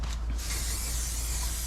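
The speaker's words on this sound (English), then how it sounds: "Let's spray this back here too while I'm at it." A steady hiss of an aerosol can spraying continuously for under two seconds on a Honda TRX 250X ATV during an oil change, close and fairly quiet.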